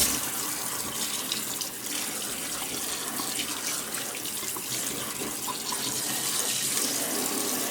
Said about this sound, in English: I love the kitchen sink hose is my best friend with this process